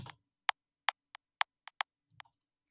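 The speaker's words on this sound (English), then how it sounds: "And one special layer is the attack layer of this sound." Synth attack layer from a remake: a series of short, sharp clicky transients, about seven isolated ticks in an irregular rhythm over near silence.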